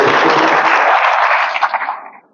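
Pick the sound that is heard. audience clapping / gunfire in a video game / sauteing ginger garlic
audience clapping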